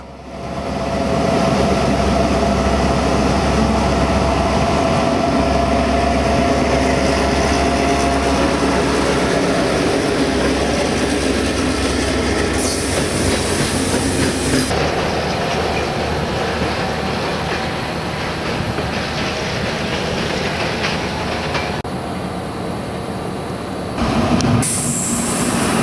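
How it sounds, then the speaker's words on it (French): Riding a train between Split and Rijeka in Croatia as a regional train passes close by: a loud, steady rumble of wheels and rushing air fills the whole stretch, with brief hissing bursts near the middle and end. "Nous croisons un train régional pour Split et un autre pour"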